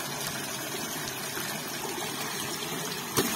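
Water rushes and gurgles steadily as a plastic-bottle fish trap is filled and pushed under, a close continuous wash with one small splash near the end and no voices.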